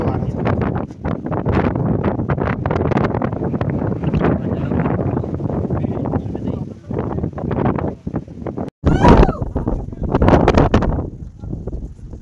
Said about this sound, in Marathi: वारा तर खूपच चालू आहे किल्ल्यावर, त्याच्यामुळे आवाज पण वाऱ्याचा खूप येतोय